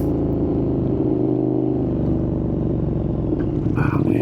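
KTM 1290 Super Duke R motorcycle engine rumbling steadily at low speed up close, with a gear shift into first partway through, the tone stepping as revs change, loud and continuous with no talk.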